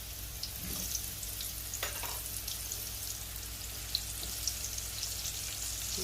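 Mushrooms frying in extremely hot oil make a steady, close sizzle and crackle throughout, with a few brief stirring scrapes and spatters rising above the hiss.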